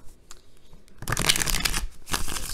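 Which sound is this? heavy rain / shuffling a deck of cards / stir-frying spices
shuffling a deck of cards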